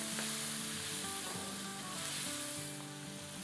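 Water poured into very hot oil with ginger and garlic sets off a constant sizzle that stays even and close throughout, with a low hum in the background and no talk.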